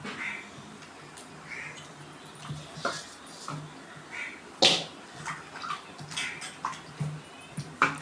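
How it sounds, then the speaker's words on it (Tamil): Cut pieces of elephant foot yam are swished and rinsed by hand in a bowl of water, soft irregular sloshing and splashing, fairly close and quiet, with a sharper knock midway. "நல்லா அலசிக்கலாம்."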